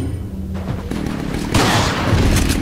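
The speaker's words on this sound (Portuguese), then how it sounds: "Essa granada aí podia ter matado todo mundo, velho." A grenade blast in the video game Resident Evil 4, a sudden booming burst with scattered crackling debris, fairly loud, following a short stretch of game ambience.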